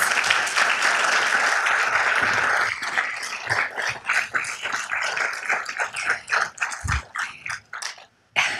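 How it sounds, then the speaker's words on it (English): Applause from the audience at a city council meeting: a dense, even wash of many hands for a few seconds, thinning into scattered individual claps and fading out near the end. "Can we get a round of applause,"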